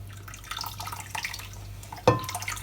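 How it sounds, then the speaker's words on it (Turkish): Lemon juice pours in a thin splashing trickle over lemon peel and sugar in a bowl, heard close up with a quick splash partway through. "Limon suyumu içerisine ilave ediyorum"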